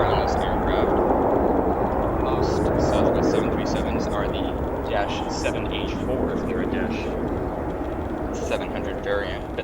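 A Southwest Boeing 737 that once flew for Air China arrives at Chicago O'Hare from Denver with a loud, continuous jet roar, heard alongside talking.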